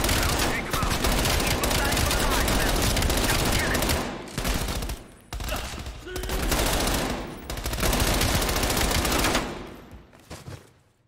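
Sustained gunfire in the Call of Duty Cold War campaign, dense rapid automatic bursts that nearly fill the scene, broken by a few brief pauses, loud and close.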